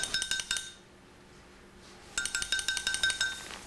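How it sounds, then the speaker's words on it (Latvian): A telephone rings in two bursts of rapid, bell-like trilling separated by a quiet pause of about a second and a half. It is fairly close and clear, with no talking. "kas tur zvana?"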